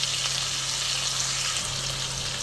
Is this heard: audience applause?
no